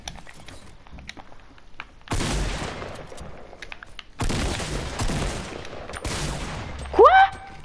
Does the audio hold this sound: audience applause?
no